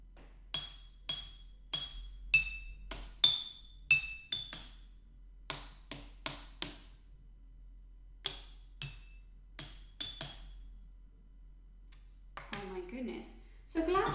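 Glass bottles struck as an instrument, a series of bright, ringing clinks in uneven rhythm with short decaying tones, close and clear, followed by a brief voice near the end.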